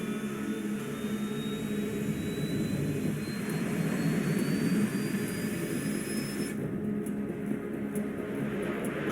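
A jet plane in a video game roars as it takes off and accelerates, a sustained whooshing engine rumble with a rising whine that climbs steadily in pitch, then cuts off sharply.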